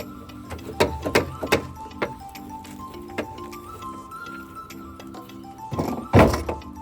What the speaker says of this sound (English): You can put stones inside also and shake it so get all the dirt loose